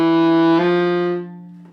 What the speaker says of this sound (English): we're going to do all smooth slurs, no stops this time